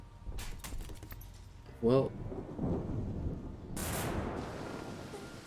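Rumbling thunder with steady rain in the video game Epiphany City, coming from a single rain cloud; a broad rolling roar swells twice over a continuous wash of rain, with a short tonal game sound and voice mixed in.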